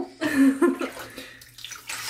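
Water splashes and sloshes in a small baby bathtub, with a few close, uneven bursts that quiet down and then return.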